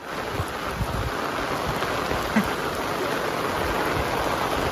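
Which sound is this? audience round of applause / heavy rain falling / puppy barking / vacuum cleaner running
heavy rain falling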